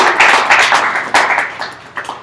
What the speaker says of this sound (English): So let's give him a little round of applause.